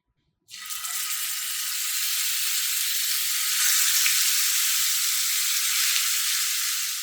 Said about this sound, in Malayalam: ലോ ടു മീഡിയം ഫ്ലെയിമിലിട്ട് ഷാലോ ഫ്രൈ ചെയ്തെടുക്കുക